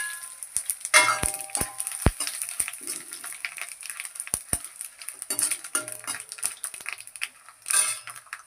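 Whole spices, bay leaf, fennel, cinnamon, star anise and cloves, fry in oil in an iron pan for tempering. Soft crackling sizzle comes with a few sharp metallic clinks and taps of a utensil against the pan.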